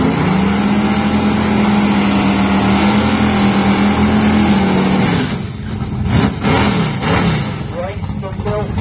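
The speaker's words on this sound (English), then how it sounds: "269 Chevy Chevelle lining up on the start line." A 1969 Chevy Chevelle race car with a 307 cubic inch engine idles loudly at the start line of a qualifying round, a steady rumbling drone that shifts as other engines and crowd noise take over, with a commentator talking over it.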